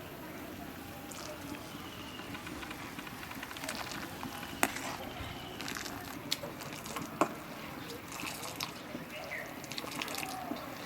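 Boiling sugar syrup for sonpapdi bubbles softly while a utensil stirs through it, giving a low, quiet simmer broken by occasional sharp clicks and scrapes against the pot.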